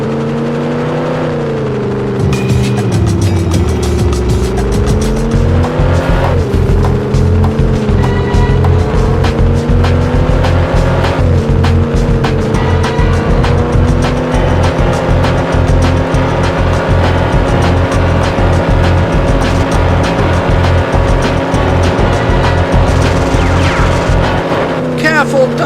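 Engine roar from a car in the 007 Racing game on PS1, a loud continuous drone whose pitch climbs and falls with gear changes, with game music and mission dialogue playing underneath throughout.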